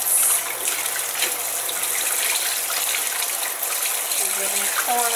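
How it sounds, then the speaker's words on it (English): Tap water runs and splashes steadily while dish soap is rinsed off, a continuous broadband gush heard up close, with brief clinks near the end. "you can rinse that off and then use your washcloth"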